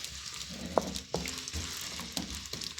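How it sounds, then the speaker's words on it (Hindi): Roughly chopped onions fry in hot oil in a pan, a soft sizzle broken by a few sharp spoon clinks and stirring scrapes, quiet and close with no speech. "तो प्याज को हम हल्का गोल्डन कर लेंगे।"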